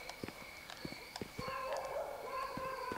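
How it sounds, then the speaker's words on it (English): Dog barks in the Medal of Honor Frontline video game, a string of short sharp yelps in the background, then a harsher run of barking layered over steady game ambience. "Some dog sound effects in the background there."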